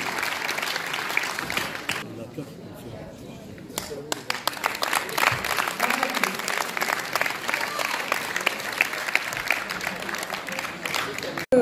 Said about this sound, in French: Applaudir tous nos jeunes sportifs, tous les bénévoles et les parents qui les accompagnent tout au long de l'année.